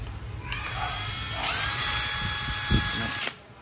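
A Sony battery-powered drill is tested on a workbench. A couple of clicks come first, then the motor whirs steadily and fairly loud for about two seconds before cutting off abruptly.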